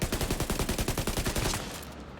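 Mark 16 assault rifle fire in The Division 2 rattles out as a rapid, even string of about twenty loud shots at a slower rate, stopping abruptly before a short tail.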